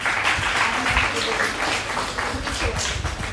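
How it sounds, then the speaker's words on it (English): Audience applause for a guest speaker at a nutrition conclave, a dense steady clapping from a crowd that carries through without pause. "So big round of applause to ma'am."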